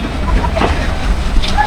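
A Mallika commuter train pulls out of Kakonhat railway station, heard from on board as a steady low rumble and rattle of the carriages, with faint background voices.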